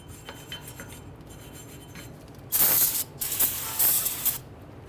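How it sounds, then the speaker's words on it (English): An aerosol can of anti-seize hisses onto a Dodge Charger's front brake hub face in bursts, one long spray followed by two shorter ones, close and loud over quiet background. "Just gonna spray this down."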